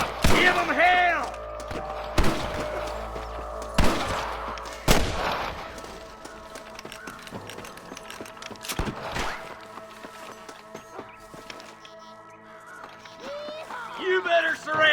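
Sniper gunfire in a Red Dead Redemption shootout: loud, sharp rifle cracks at irregular intervals, some echoing, mixed with shouting voices and busy background game sounds.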